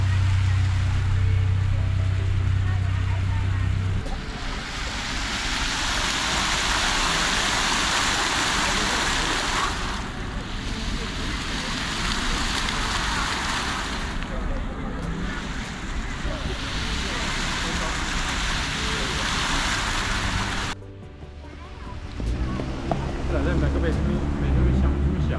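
A fountain splashes steadily in the grounds of a European Baroque-style manor, a broad continuous wash of falling water close by, with a brief break and a lower rumble near the end.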